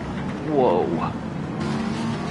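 Ferrari race car in Gran Turismo 7 roaring past with a rising, swooping engine note that peaks and fades over about two seconds, set under a continuous bed of other engines and a commentator talking.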